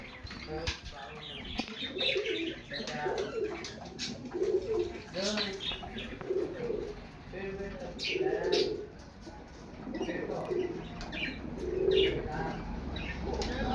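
Pigeons kept as a pair for sale coo in repeated low, throaty phrases with occasional wing flaps and light chirps, while someone talks over them throughout.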